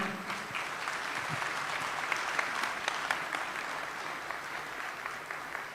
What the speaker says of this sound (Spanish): muchas gracias por sus conocimientos, un fuerte aplauso